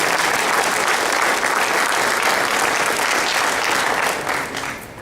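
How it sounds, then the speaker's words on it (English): A crowd at a Hall of Fame induction ceremony gives a sustained round of applause for the honorees, thick and continuous, tapering off in the final second. "Let's have one more round of applause for our 3 recipients this year."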